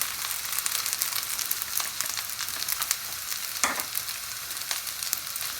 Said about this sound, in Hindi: अच्छे से हमने इसको भी फ्राई कर लेना।